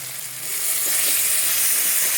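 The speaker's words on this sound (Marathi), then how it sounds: "आता आपण ह्याच्यामध्ये पुलाव टाकून घेऊ" Cooked rice for veg pulao drops into a hot pan, setting off a steady, bright sizzle that swells slightly and holds, close and without talk.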